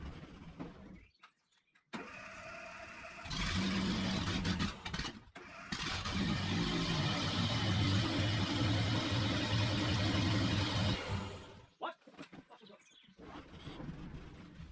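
A vintage Ferguson tractor engine is cranked and catches after a couple of brief false starts, then runs loud and close with a rough, steady rumble for several seconds before it cuts out.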